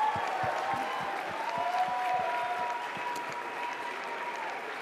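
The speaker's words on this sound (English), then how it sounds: "while we're at a bit of applause" An audience applauds steadily, a dense wash of clapping that holds throughout at a moderate level, with no talking over it.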